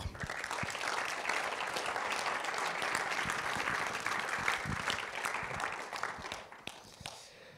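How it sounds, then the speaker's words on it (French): Sustained applause from an audience filling a Paris cinema hall during a ceremony, loud, dense clapping that holds steady for several seconds before thinning slightly at the end. "on peut les applaudir bien fort"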